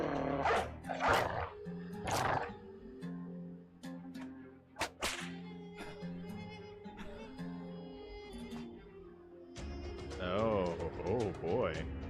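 Dogs bark and yelp in a hunting video game, with sharp whip-like cracks and bursts of growling close by, mixed with game music, animal cries and someone talking.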